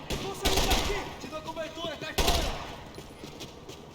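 Gunfire in the Max Payne 3 video game comes in two sharp bursts about two seconds apart, loud and close, with a voice talking in between.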